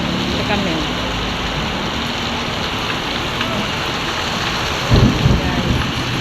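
Heavy rain pours steadily in a thunderstorm at an airport, a dense continuous roar with a low rumble of thunder rolling in near the end.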